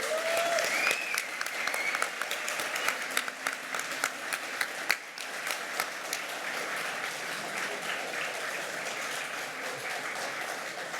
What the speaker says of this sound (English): can we give a big round of applause to Arcadia for such a fantastic event